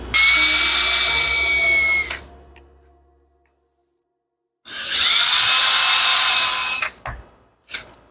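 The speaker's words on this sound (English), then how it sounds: "I'm gonna drill and countersink some holes in each one" A power drill bores and countersinks holes in MDF strips, giving two long, loud, close whining bursts of a couple of seconds each, separated by silence, and followed by short clicks and a brief final burst.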